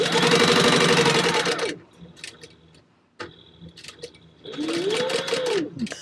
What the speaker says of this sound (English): Let's go to the sewing machine and sew those.